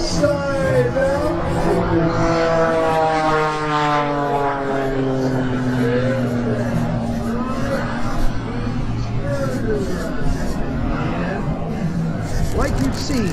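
An Extra 330 aerobatic propeller plane roars past, its engine pitch sweeping downward in a clear Doppler fall, then fading to a distant drone while someone talks over it.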